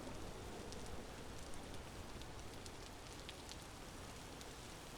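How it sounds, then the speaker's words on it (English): Steady rain falls in the video game Vintage Story, a soft continuous patter with scattered drop ticks, faint and even throughout. "Maybe it wouldn't be so bad if it was not raining on me."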